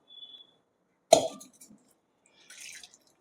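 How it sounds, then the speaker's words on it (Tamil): Chana dal being rinsed in water in a home kitchen: one sharp splash and slosh of water over the lentils, a brief trickle after, then a second softer swish, close and quiet with no talk. "இதில் தண்ணி விட்டு நல்லா ரெண்டு தடவை களைஞ்சிட்டு அதுக்கப்புறம் தண்ணியை வடிய விட்டுடலாம்"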